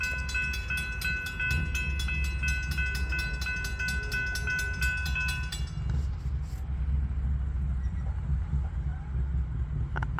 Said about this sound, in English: Is it an actual train or another ghost train?